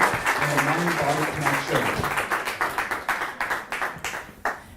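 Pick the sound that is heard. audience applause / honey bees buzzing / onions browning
audience applause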